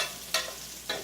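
Swedish meatballs browning in a pan give off a constant soft sizzle, with two brief louder bursts of hissing as they are moved or stirred.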